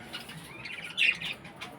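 Faint high-pitched cockatiel chirps, with one brief louder chirp near the middle, heard against a quiet, slightly hissy background.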